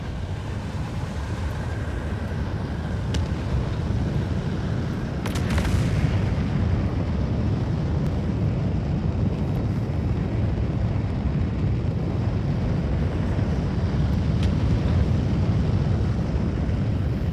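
An RSI Apollo Medivac ship lifting off in a space game, a steady deep engine rumble that swells slightly midway, with a few faint mechanical clicks and hisses over the constant roar.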